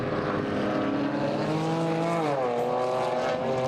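A GT4 race car in 2019 European Series qualifying at the Nürburgring approaches and passes; a loud, steady engine drone whose pitch sags as it goes by, with no speech.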